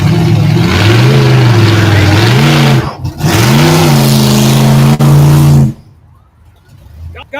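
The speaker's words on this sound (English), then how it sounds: "got noisy race cars" Race car engines rev hard and close, rising and falling in pitch through two long loud bursts with a brief dip between them, then cutting off abruptly into quieter background noise.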